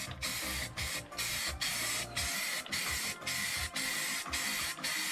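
A spray gun lays the first coat of primer on a VW Thing hardtop outdoors, with loud close hissing bursts repeating in a steady rhythm of about one pass per half second, separated by brief pauses.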